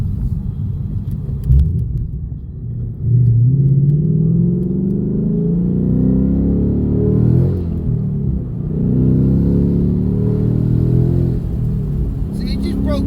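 A Ford Mustang GT accelerates hard in second gear, its engine rumbling and rising in pitch as the tires break loose, heard from inside the car with someone talking over the roar.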